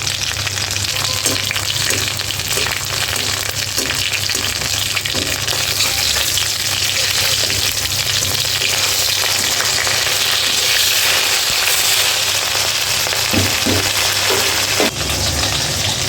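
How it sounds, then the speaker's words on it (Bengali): Dried red chillies fry alongside hilsa fish in hot oil, giving a steady, close sizzle and crackle that holds even for the whole stretch, with a few soft stirring knocks near the end and no talking. "এখানে কয়েকটা শুকনো মরিচও ভেজে নেব ইলিশ মাছের সাথে"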